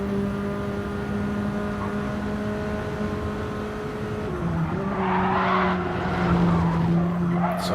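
Race-modified Mini cars lapping Watkins Glen in a live broadcast, their engines droning steadily at close range with a pitch shift midway as another car passes, joined by tire skids and brief squeal, with no talking.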